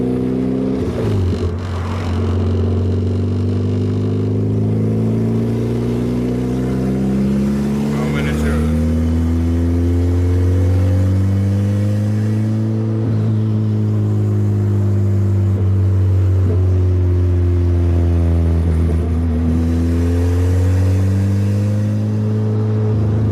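A tuned hatchback engine, running a crackle-and-pop tune, idles cleanly and loud up close, then rises in several smooth revs that climb and fall back to idle throughout.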